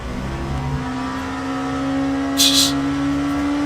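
A GT3 race car engine in the Le Mans Ultimate racing game drones steadily at a sustained pitch, joined by a brief hissing burst near the end.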